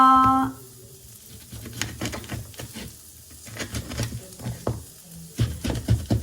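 Meat grilling in a pan, seasoned only with salt and pepper, giving a soft steady sizzle with scraping and stirring clatter, a chime at the start, and no talk.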